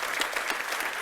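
Audience applause following a talk on globalization, a steady wash of many hands clapping at moderate distance, continuous and even for the whole short moment.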